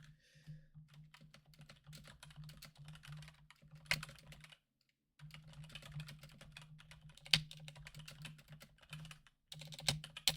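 Fingers type steadily on a computer keyboard, close and fairly quiet, in bursts of rapid key clicks with short pauses and a few harder keystrokes, over a low electrical hum and no talking.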